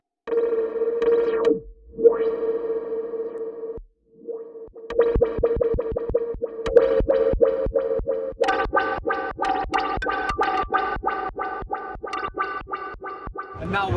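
A U-he Twangström spring reverb plugin with an LFO modulating a long decay: synth tones ring out into a shimmering, warbling reverb tail, first sustained, then a rapid run of plucked repeated notes, loud and alone.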